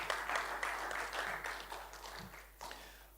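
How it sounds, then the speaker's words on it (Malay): A lecture audience at a formal university address gives a fairly quiet burst of applause that tapers off, with a low hum underneath and a few scattered claps at the end. "Beri tepukan tuan-tuan puan-puan."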